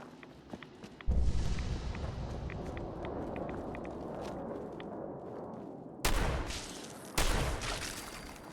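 Gunfire in the video game Fallout 4: a few sharp, loud shots with ringing tails stand out over a quieter stretch of footsteps and ambient game sound.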